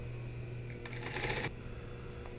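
A brief, quiet burst of a sewing machine stitching a fly front zipper, its rapid mechanical whir lasting under a second against a low background hum.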